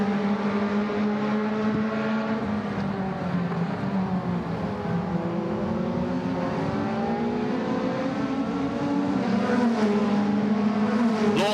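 Race cars in Toyota Racing Series qualifying at Taupo circuit, engines droning steadily with rising and falling pitch as cars accelerate and lap, continuous and fairly loud throughout with no talk.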